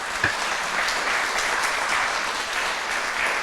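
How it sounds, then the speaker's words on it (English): Audience applause fills a conference opening session, a steady, dense wash of many hands clapping at moderate volume throughout, with no speech over it. "Why don't we right now just give her a great applause for all the donations she's given us over the past 16 years."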